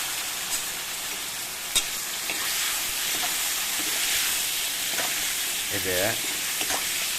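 Mango pieces fry in hot sesame oil with turmeric, giving a loud, continuous sizzle and hiss with occasional stirring scrapes and a brief spoken word partway through.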